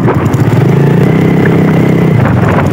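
A motorcycle engine drones loudly and steadily up close while the bike is ridden along an open, fairly smooth road, its mid-pitched hum holding even throughout.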